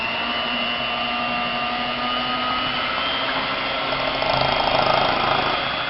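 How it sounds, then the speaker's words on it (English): An electric blender whirs steadily as it mixes cake mix for cake pops, a loud continuous motor drone that keeps an even pitch and swells slightly near the end. "So, blend it for 2 minutes."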